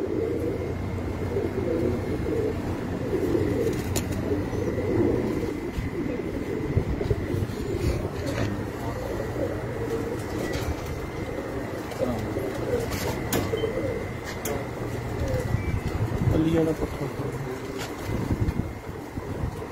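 Pigeons coo softly and repeatedly in the background, with wind noise and faint rustling throughout and a voice murmuring nearby.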